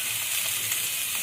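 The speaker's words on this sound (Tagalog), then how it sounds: "Pisik-pisik ang mantika." Hot cooking oil splatters and sizzles steadily in a pan during frying, a close, continuous crackling hiss over a brief moment.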